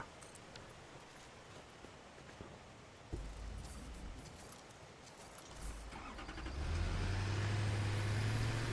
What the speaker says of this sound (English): Transport tractor.